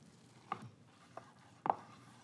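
A knife slicing through roast turkey breast using the full length of the blade, three soft, separate cuts spaced about half a second apart, faint and close in a quiet room.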